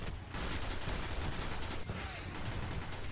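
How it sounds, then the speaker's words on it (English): Gunfire in the Destiny video game Crucible multiplayer mode, dense bursts of shots and rapid fire layered continuously with game noise, loud and close, with a voice faintly under it. "Where am I getting shot from?"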